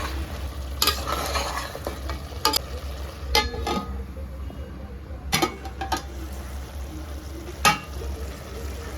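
Mutton for Kolhapuri sukka sizzles softly in a pan over a low, steady hum, broken by a few sharp stirring scrapes and clinks of a spoon, close by with no talking.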